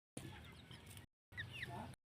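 Loose backyard chickens that have escaped their coop cluck close by in two short, busy bursts separated by a brief pause.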